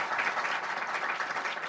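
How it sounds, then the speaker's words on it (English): Audience applause fills a hall at Brookings after an address by Health and Human Services Secretary Alex Azar: a steady, dense wash of many hands clapping, continuous and fairly even throughout. "I didn't mean to stop the applause"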